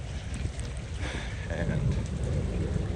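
Rain falls steadily during an outdoor stroll with a dull, broad hiss, with low wind or rumble underneath.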